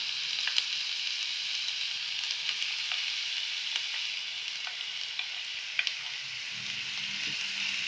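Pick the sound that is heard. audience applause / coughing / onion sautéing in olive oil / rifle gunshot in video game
onion sautéing in olive oil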